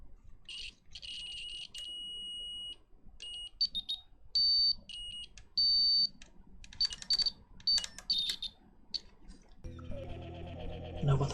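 A multimeter's continuity tester beeps while probing a capacitor circuit, giving several short high-pitched electronic tones of varying length, with faint handling noise and a brief rougher burst near the end.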